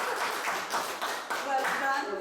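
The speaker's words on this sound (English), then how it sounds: "Let's give him a round of applause" A round of applause for a quiz winner, a dense burst of clapping from a small group lasting throughout, fairly close and even with slight swells.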